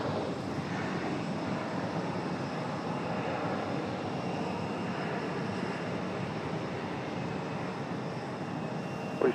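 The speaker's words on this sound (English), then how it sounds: "The CRJ 701. With a nice, smooth touchdown." A CRJ 701 regional jet touches down smoothly at Raleigh-Durham airport, its engines a steady, broad roar that holds at a constant level throughout with no voices.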